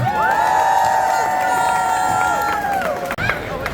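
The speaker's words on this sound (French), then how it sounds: "S'il vous plaît, applaudissez Gaspard Nortman." A crowd at the Pride Valais gathering in Martigny cheers and whoops loudly and steadily for a speaker taking the stage, one long sustained tonal shout carrying over the noise before a brief dip near the end.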